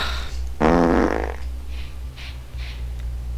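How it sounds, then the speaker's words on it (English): A loud, close fart from a character in the horror video game Never Ending Nightmares, one long rasping blast lasting under a second, followed by a few faint soft puffs over a low steady hum. "Why did I fart again?"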